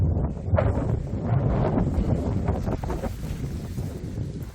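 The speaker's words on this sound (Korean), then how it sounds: "바람." Wind gusts roar across the microphone outdoors at a home under construction in Africa, a loud, rumbling, uneven rush that swells and eases for several seconds.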